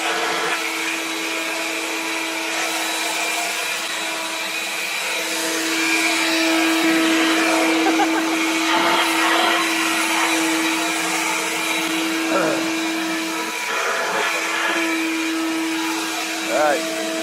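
A WorX 40V cordless yard blower runs continuously nearby with a steady whining roar and a strong constant tone, while a person talks intermittently over it.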